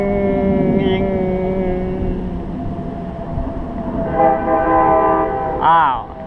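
A train rumbles past with a steady low roar, and two loud horn blasts sound near the end.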